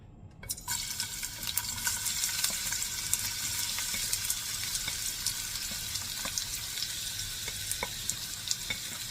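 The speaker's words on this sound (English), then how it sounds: "onion and garlic. We're just going to dump into this hot pan." Onion and garlic hit a hot pan and burst into a loud, steady sizzle that keeps crackling close by, with scattered sharp pops and light stirring clicks and no voices.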